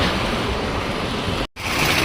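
Floodwater of the overflowing Munneru river in Khammam rushes past in a steady, loud, broadband roar close to the microphone, broken by a brief dropout near the middle.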